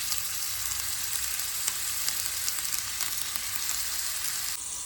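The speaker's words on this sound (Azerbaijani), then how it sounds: "Kənarda kotletləri belə bu formaya gətirmişim və yaxşıca qızardıram." Shaped meat cutlets fry in hot oil in a pan, giving a continuous, even sizzle close by with faint crackles and no talking.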